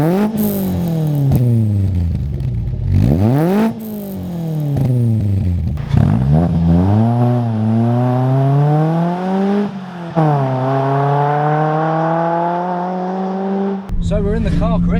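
Tuned Ford Fiesta ST500 turbo hatchback driven on winding B roads, the engine revving up through the gears in repeated rising pulls with brief drops at each shift, loud and close, with talk partly over it.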